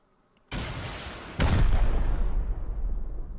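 Rocket launcher fired in the survival game Rust: a sharp launch burst, then a second, heavier blast about a second later that rumbles on loudly and fades slowly, with no voices.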